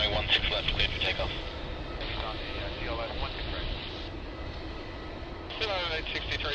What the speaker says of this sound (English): 504, runway 16 left, cleared for takeoff